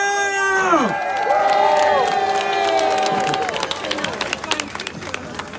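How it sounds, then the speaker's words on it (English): Rally crowd at an outdoor freedom rally in Ottawa cheering and applauding loudly, a dense wash of whoops and shouts over steady clapping that thins toward the end, with voices mixed in. "Merci beaucoup, Samuel Grenier, on l'applaudit très fort!"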